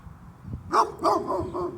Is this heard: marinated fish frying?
no